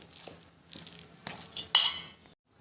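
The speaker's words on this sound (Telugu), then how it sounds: "మొత్తం కలిపేసుకోవాలి." Ripe red chili pickle with tamarind and salt being mixed by hand in a bowl, giving a few short scraping, clinking bursts that grow louder toward the end, with no talking.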